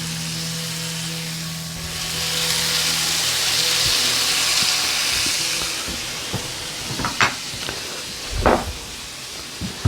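Sirloin steaks sear in a hot pan with a steady loud sizzling hiss that swells and then eases, followed by a few sharp clanks and knocks from the pan near the end.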